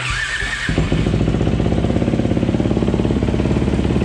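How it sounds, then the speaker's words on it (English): A Honda CRF50 dirt bike with the choke on and a leaky petcock starts up after a brief pause, then runs at close range with a loud, steady, rapidly pulsing engine note as the throttle is blipped. "Whack the throttle a few times."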